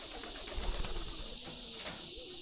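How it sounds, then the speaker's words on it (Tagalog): Caged white doves coo softly at a farm in Maragusan, Davao de Oro, a few low murmuring calls set against steady outdoor hiss. "White doves."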